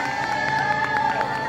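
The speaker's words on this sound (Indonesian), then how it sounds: "Kita berikan tepuk tangan dong." Studio audience on a home-makeover TV show breaks into dense, steady applause with scattered cheers, a continuous loud wash of clapping filling the moment.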